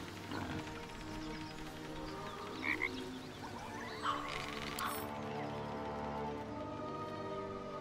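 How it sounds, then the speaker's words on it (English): A frog croaks in the Baldur's Gate 3 video game, its call sitting within a dense, steady bed of game sound effects and ambience that runs throughout with no voices. "Ah yes, lethal frog."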